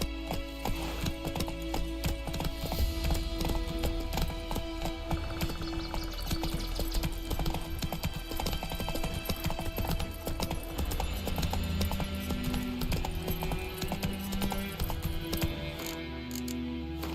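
The horse Roach's hooves clip-clop steadily at a walking rhythm in The Witcher 3, close and continuous, with jingling tack and game music underneath.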